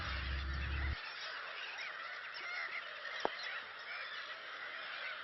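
A colony of gulls calls at their nesting site by the Dukan dam reservoir near Ranya, a faint, distant chorus of overlapping cries over steady outdoor noise, with a low rumble in the first second.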